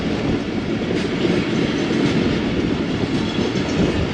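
The Khyber Mail rolls along the rails near Okara on a cold, foggy day, a steady loud rumble with rhythmic wheel clatter, heard alone.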